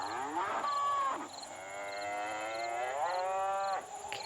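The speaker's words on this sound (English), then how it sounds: "Cow." A cow moos in long, drawn-out bellows at a cattle ranch in the WolfQuest video game, several overlapping calls rising and falling over a steady game ambience with no talk.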